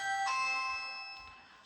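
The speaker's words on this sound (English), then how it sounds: "That was the Ring doorbell going off there" A Ring doorbell chime sounds once at a front door, a soft ringing tone that rings out and slowly fades, quiet and alone.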